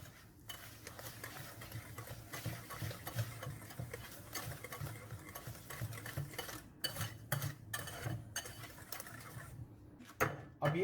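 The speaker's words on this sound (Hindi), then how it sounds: "अब आप एक विस्क लें और पहले तो इसको ऐसे मिक्स कर लें।" A hand whisk stirs brownie batter in a bowl, giving a steady scraping, clinking stir with repeated light taps against the bowl, close and moderately quiet with no talk.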